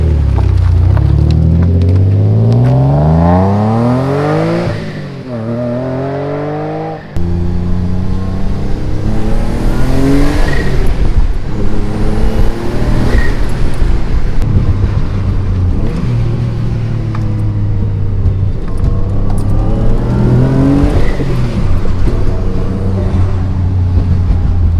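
A turbocharged H6 Subaru Liberty wagon running on E85 is being driven, its engine note rising and falling through repeated loud accelerations and gear changes, with a brief lull before pulling hard again.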